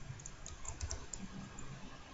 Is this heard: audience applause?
no